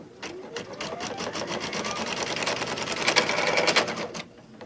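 An embroidery machine stitching down a zippered pouch in the hoop, a steady fast rhythmic needle clatter running continuously, close and loud, easing off at the end.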